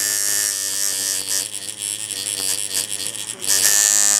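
A buzzing tattoo machine running while doing greywash work with a needle through a glove, loud and steady, its pitch wavering and dipping as the motor bogs down under load.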